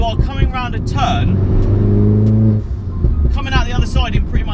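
A 300 bhp R56 MINI John Cooper Works engine revving up under acceleration, a steady mid-pitched drone holding for a couple of seconds before easing off, with someone talking before and after.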